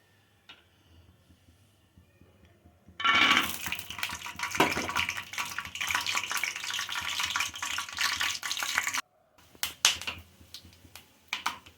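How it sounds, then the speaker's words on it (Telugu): Peanuts frying in oil in a pan: quiet at first, then a loud, dense sizzling hiss bursts in and holds for several seconds before breaking into scattered crackles and pops, with no voices. "ముందు పల్లీలు వేసి వేయించుకోవాలి"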